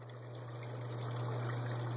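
Water pouring steadily from pump-fed aquaponics filter tubes, a constant close trickle over a low, even pump hum.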